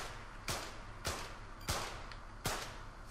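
Four evenly spaced pistol shots in the rapid fire pistol event of the London 2012 Olympic video game, sharp cracks about half a second apart over a steady background hum.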